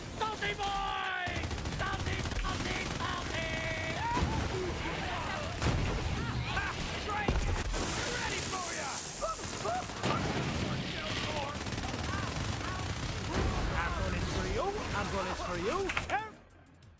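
Rapid automatic gunfire and blasts from the shooter game Borderlands 3, dense and continuous, mixed with enemy screams and a player's voice speaking, then cutting off abruptly at the end.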